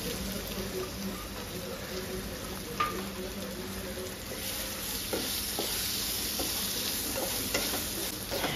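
Thinly sliced potatoes sizzle and fry in a pan while being stirred, with steady frying hiss and occasional spatula scrapes and clicks; a faint murmur of speech sits underneath.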